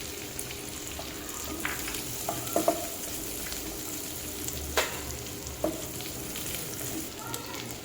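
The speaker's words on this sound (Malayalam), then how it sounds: "1 ടേബിൾ സ്പൂൺ വെളുത്തുള്ളി, 2 പച്ചമുളക് എന്നിവയിട്ട് ഒന്ന് വഴറ്റുക. ഇനി തേങ്ങാക്കൊത്ത് ചേർക്കുക." Garlic, green chilli and coconut pieces sauté in oil for a Kerala-style prawn roast, giving a steady soft sizzle with a few faint scraping clicks of the spoon, continuous and fairly quiet throughout with no talking.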